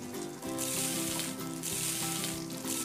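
Boiled sweet corn sizzles steadily in an oiled pan in a cooking video game, a continuous bright frying hiss under a looping musical tone.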